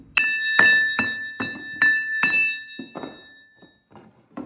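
Forged steel gearbox gears for a YuMZ tractor are struck repeatedly, each hit ringing out with a clear, sustained metallic tone, about a dozen strikes that grow fainter toward the end.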